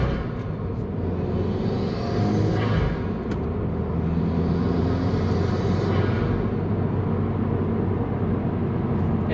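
A 2020 Subaru WRX fitted with a Mishimoto intake drones steadily while driving, heard from inside the car, with the engine note swelling twice as it revs up and eases off.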